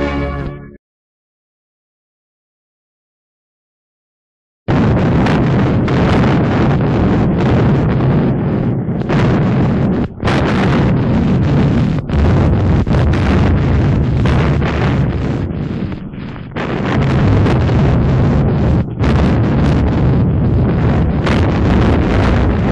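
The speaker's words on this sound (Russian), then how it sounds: "проговорила артиллерия дальнего действия с левого берега Волги." Long-range artillery firing from the left bank of the Volga during the Battle of Stalingrad, in archival wartime footage: a sustained, loud roar of heavy gunfire and explosions that carries on after a short silence at the start.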